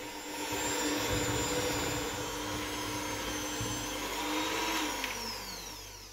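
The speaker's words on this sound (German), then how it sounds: "Und schon können wir das Ganze durchkneten mit dem Knethaken vom Mixer." A hand mixer fitted with dough hooks kneads Swabian-style batter, a steady whirring motor drone with a high whine, its pitch shifting slightly as the load changes, running continuously with no voices.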